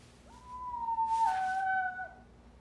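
A cartoon wolf howls once, a single long wavering call that rises and bends downward, moderately loud and alone against a quiet background.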